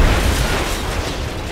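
An explosion in the XCOM: Enemy Within video game during a base defense mission, heard as a loud, sustained, rumbling blast that fills the whole stretch and fades slowly, with no talking.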